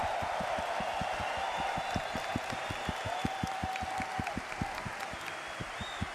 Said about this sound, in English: share your applause for all of the cosplay talent here on this stage in Grace's honor